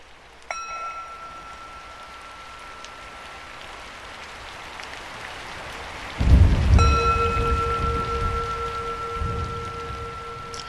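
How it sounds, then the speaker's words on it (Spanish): Rain drums steadily on a sheet-metal roof at midnight, joined by a sudden loud thunder crash that swells into a heavier downpour; thin sustained tones run through the background. "Comenzó a llover. Las lluvias habían aumentado y llegaban puntualmente a medianoche. El sonido del agua sobre la lámina era fuerte y causaba desasosiego."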